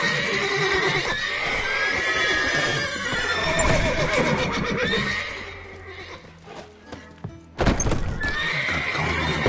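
Horses in The Witcher video game neigh and whinny repeatedly over a steady clatter of galloping hooves, loud and close, with a few sharp bursts near the end.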